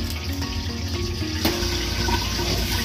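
Running water splashes steadily from a tap while baby back ribs are rubbed and cleaned with salt in a kitchen, a continuous close rush with scattered wet handling noises.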